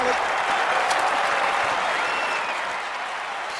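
In the London 2012 video game, a virtual crowd applauds a clay shooting round with steady, dense clapping that holds at an even level throughout.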